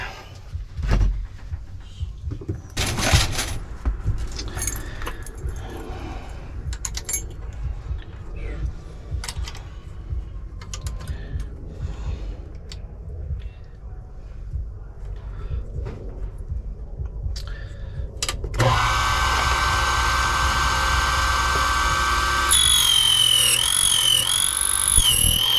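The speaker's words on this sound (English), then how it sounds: "key machine here, let me just slide over and we'll cut a key" A locksmith's key cutting machine cuts a key during a house rekeying job, a steady grinding whine setting in partway through after earlier clicks and handling noises, growing harsher near the end.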